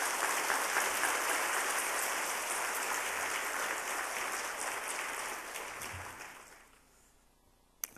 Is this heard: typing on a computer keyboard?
no